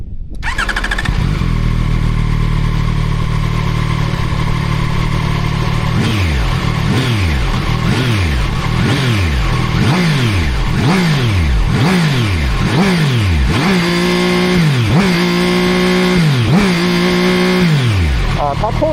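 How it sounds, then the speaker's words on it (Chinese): A ZXMOTO 820RR sport motorcycle starts up and idles in neutral, then revs repeatedly in sharp rising and falling bursts that grow longer and higher toward a rev limiter; the engine is loud and close, with no talking. "咱们先点火来听一下它的声音"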